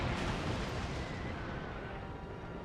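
An enemy ship fires its cannons at the player's ship in a naval battle video game, a loud, continuous rumbling roar of overlapping blasts with no quiet gaps.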